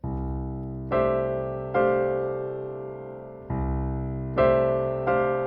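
Sustained chords ring out in turn, one voicing then another, each struck cleanly and held, with a short gap before the pair repeats.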